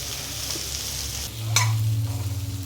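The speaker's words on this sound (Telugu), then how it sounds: "బెండకాయలు వేసుకోవాలి, కలుపుకోవాలండి ఒకసారి." Okra stirred into frying onions in a pan, a soft continuous sizzle with a sharp scrape of the spoon at the midpoint followed by a low rumbling hiss, close by and without speech.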